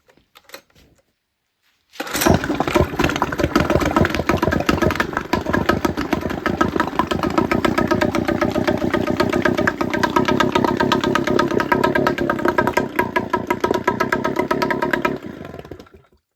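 A small Yamaha 3.5 hp four-stroke outboard motor starts up and runs steadily at close range, exhaust in a bucket of water, a loud, even putter for about thirteen seconds before cutting off.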